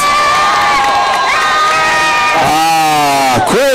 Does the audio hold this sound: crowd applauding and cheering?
yes